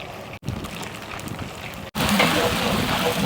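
Mustard seeds sizzle and pop in hot coconut oil while coconut is roasted for a Kerala sadya kootukari, a constant crackling fry that grows louder after a brief break.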